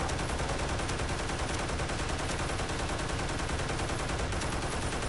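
Automated turrets in the Toy Soldiers War Chest video game fire on infantry in a dense, continuous rattle of rapid gunfire that fills the whole stretch at steady loudness, with no talk.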